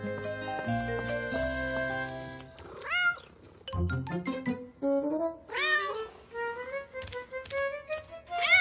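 In a children's cartoon, several distinct cat meows rise and fall after a short burst of bright music, each call clear and close, spaced a second or so apart.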